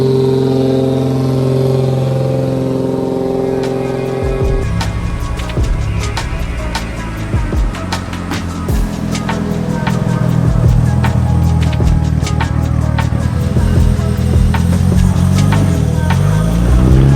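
A car engine run hard on a dynamometer, its steady drone climbing as it builds revs and holding a loud, strained roar through the back half, with no voices over it.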